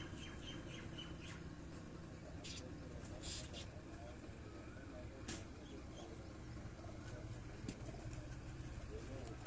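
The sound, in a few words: pigeons on a rooftop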